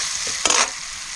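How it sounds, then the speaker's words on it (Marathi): Onion sautés in a pan over an outdoor cooking fire in a field, with a steady sizzle and one short burst of stirring near the middle. No voices. "कांदा मस्त लाल होईपर्यंत परतून घ्यायचा"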